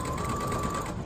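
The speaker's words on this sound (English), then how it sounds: "So I want to match it up as I sew." Sewing machine stitching a mesh V-neck bodice, running continuously at a steady fast whir with a rapid needle rhythm, close and fairly loud, with no talking.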